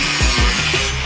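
A power tool cuts a side panel notch into the steel frame of a C10 truck, giving a loud, continuous grinding rasp up close, with short rhythmic pulses and no voices.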